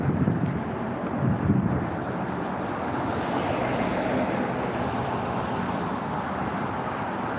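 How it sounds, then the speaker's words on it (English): Steady wind rumbling and buffeting against the microphone, a constant low roar with no one speaking. "Somebody asked why it's so windy, because it's about to be winter"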